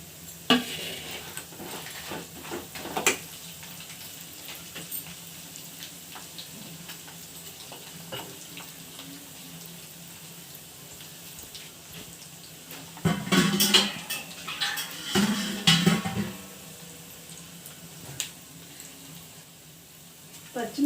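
Cumin seeds and dried red chillies sizzle in hot oil in a pan for lemon rice, a steady frying hiss with louder bursts of stirring and utensil scrapes toward the end.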